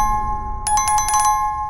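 A bright bell-like chime rings several times in quick succession, clear and close, over a steady low hum, like a notification alert.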